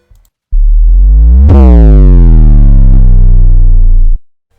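Heavy sub-bass drop sound effect: a loud synthetic tone that swoops down in pitch, then sustains with a rich buzzing overtone stack for about three and a half seconds before cutting off abruptly. No voices.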